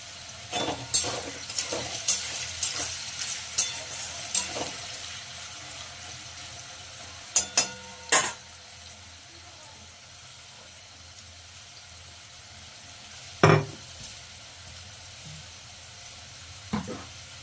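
Potatoes frying in a pan, a steady soft sizzle with scattered sharp scrapes and knocks from stirring, clustered early and then sparse, close.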